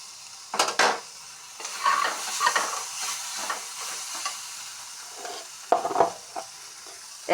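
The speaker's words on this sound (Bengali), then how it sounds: "এখন দিয়ে দিচ্ছি আলু ভাজাগুলি" Fried potatoes are added to a sizzling pan of spiced curry and stirred. A constant hiss of frying is punctuated by several sharp scraping and clattering bursts from the utensil against the pan.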